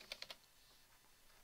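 Three quick keystrokes on a computer keyboard at the start, then a quiet pause and a single sharper key press at the end, close and fairly faint with no talking.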